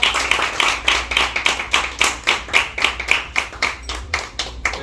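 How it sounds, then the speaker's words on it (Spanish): Audience at a literary talk clapping in unison, a rhythmic, evenly spaced beat of about three claps per second, fairly close and steady without voices. "Un aplauso para la"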